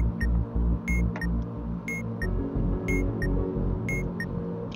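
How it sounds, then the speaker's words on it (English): A video game's Morse code signal sounds as evenly spaced high beeps, clear and repeating, layered over constant low game noise and throbbing background sound. "Morse code."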